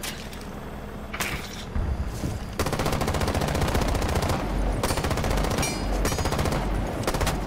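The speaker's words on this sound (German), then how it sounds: "er schießt jetzt durch Steinwand" Rapid automatic gunfire fired through a stone wall in Rainbow Six Siege, loud sustained bursts in a fast continuous rattle, with a few louder individual shots along the way.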